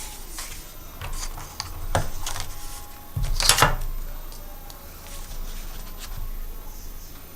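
Paper being cut for a mini album project, several short crisp snips and slicing scrapes spread across the stretch, close and moderately loud over a faint background hum.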